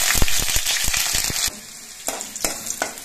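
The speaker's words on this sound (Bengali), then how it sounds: "দিচ্ছি অল্প করে একটু গোটা জিরে, আর কয়েক কোয়া রসুন আমি দিয়ে দিচ্ছি।" Whole cumin seeds and garlic cloves hit hot oil for a Bengali masoor dal tadka, crackling in a loud, dense sizzle with sharp pops and stirring clicks that soften after a moment to a quieter spatter.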